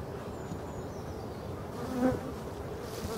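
Black honeybees buzz steadily at the hive in a dense, close hum, with individual insects droning past and swelling briefly louder.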